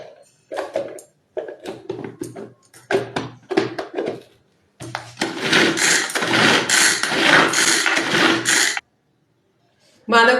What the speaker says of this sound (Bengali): বাঁধাকপিটাও চপিং করছি